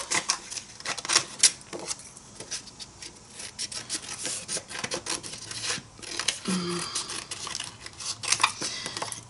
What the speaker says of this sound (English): I just want to cut some strips out of it